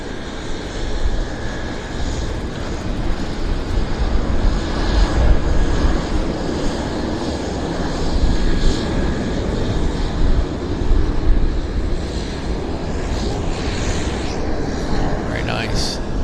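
British Aerospace 146 / Avro jet airliner engines at Vancouver Airport, a sustained distant rumbling roar with a whining hiss, steady throughout, with people talking quietly underneath.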